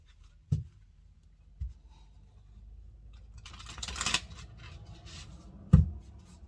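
Tarot cards are shuffled softly, with a brief riffle and rustle of cards between a few dull knocks and taps. The whole passage is quiet and has no talking.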